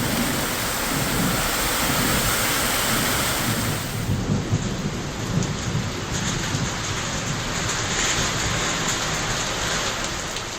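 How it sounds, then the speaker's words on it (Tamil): Heavy rain pours down steadily during a thunderstorm in Tamil Nadu, India, with a dense, continuous hiss of drops and low rumbles of thunder throughout, loud and close, with no voices. "காரமடை, சிறுமுகை உள்ளிட்ட இடங்களில் 1 மணி நேரத்திற்கும் மேல் மழை பெய்தது."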